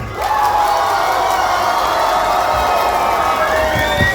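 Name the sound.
audience applauding and cheering to vote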